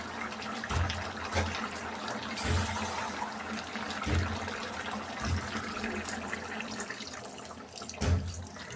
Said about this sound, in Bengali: এখন দিয়ে দিব পরিমাণ মতো পানি।